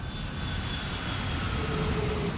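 An airplane sound effect for an imaginary flight from Japan to Dublin: a steady, loud jet engine roar with a faint whine, continuous and close, with no talking.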